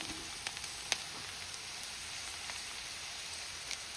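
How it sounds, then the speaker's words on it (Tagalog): Onions caramelizing in a pan before hotdogs go in, a steady crackling sizzle with faint scattered pops, fairly quiet and alone without talk. "Prituhin natin konti."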